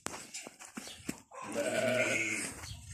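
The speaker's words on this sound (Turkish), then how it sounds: "Arkadaşlar şimdi koyunları yakından göstereceğiz." Sheep on a farm bleating in a long, loud, wavering call that follows a few scattered knocks and short sounds.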